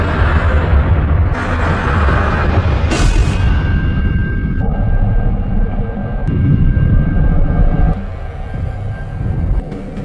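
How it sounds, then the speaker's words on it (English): A spacecraft from the film Predator: Badlands lifts off and departs in a loud, continuous, roaring engine rumble. A sharp whooshing surge comes about three seconds in, and the roar stays steady and near with no voices. "Quay successfully initiated the airplane system, which resulted in the aircraft departing and transporting Dex over to the planet Gina."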